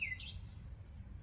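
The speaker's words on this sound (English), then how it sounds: "can you hear that bird?" A single brief bird chirp outdoors, a quick high sweep at the very start, faint over a low steady rumble of background noise.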